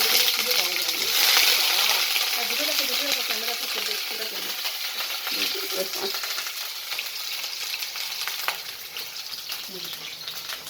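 Whole pieces fry lightly in a pan of oil, giving a busy crackling sizzle with occasional stirring scrapes. A faint voice murmurs underneath at times.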